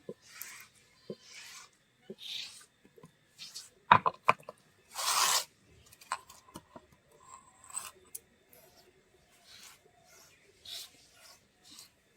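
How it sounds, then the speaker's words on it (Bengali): Green chilies are ground on a grinding stone in a village kitchen, heard as intermittent rough scraping and rubbing strokes, some sharp and some soft, with quiet gaps between them. "কয়টা কাঁচা লঙ্কা বেটে নিব।"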